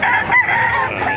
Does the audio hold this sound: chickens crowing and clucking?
yes